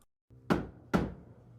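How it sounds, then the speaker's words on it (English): Two sharp knocks on a door, close and distinct, spaced about half a second apart, each with a short hollow ring and no voices. "Is that the right amount of knocks?"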